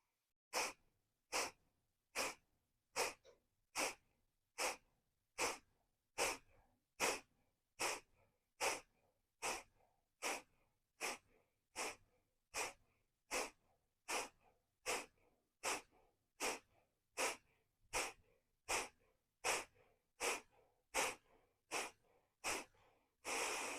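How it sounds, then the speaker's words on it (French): Kapalabhati yoga breathing, a steady series of around thirty sharp, forceful exhalations through the nose at an even rhythm, close and clear with short quiet gaps between each puff and no talking. "à la fin de Kapalabhati, on vient vraiment vider l'air dans les poumons, donc on va jusqu'au bout de l'expiration"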